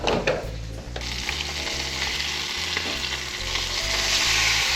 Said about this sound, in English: perfect sear on these black and red fish